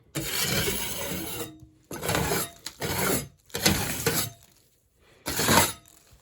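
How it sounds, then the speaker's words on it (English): A scraper drags debris off a damaged drywall ceiling during repair in about five rough, rasping strokes, each a second or less, separated by short silences and heard up close. "go here, scrape off any debris."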